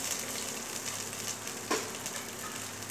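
Asafoetida fries in hot oil in a pan for pav bhaji, giving a steady, close sizzle with no voices and a single brief tap partway through.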